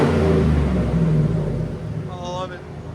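A custom Hummer H2 with a 6.2L V8 and straight-pipe exhaust revs loud and close, a deep throaty roar that swells and then eases off, with a voice talking over the end.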